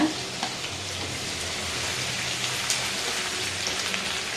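Chopped onions sizzle and crackle in hot oil, a steady frying hiss with small pops, close and fairly quiet.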